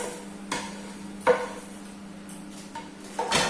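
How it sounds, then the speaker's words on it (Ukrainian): Rice being stirred in a pot on a gas stove for stuffed peppers: a few scraping, clinking strokes of a utensil against the pot, moderately close, with quiet gaps in between and no talking. "І, звісно, перемішуємо."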